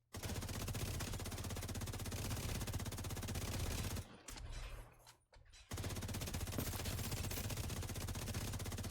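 Sustained rapid automatic fire from a high-end assault rifle build in The Division 2, a dense unbroken stream of shots with a brief ragged pause midway before the firing resumes at full loudness.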